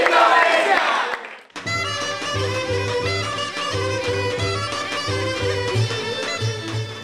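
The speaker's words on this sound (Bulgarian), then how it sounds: "нестихващи възгласи и аплодисменти" Cheers and applause from a crowd at the World Folk folklore championship swell loudly for a second or so, then cut off abruptly as rhythmic music with a pulsing beat takes over.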